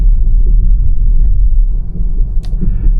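A Tesla Model Y Dual Motor rolls over cattle guards, giving a loud, steady low rumble from the tires and cabin, with a brief sharper clank near the end.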